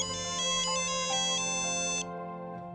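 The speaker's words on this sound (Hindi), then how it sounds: "फोन आ रहा है तुम्हारा।" A mobile phone ringtone plays a repeating electronic melody with bright, steady tones, close and clear, then cuts off near the end.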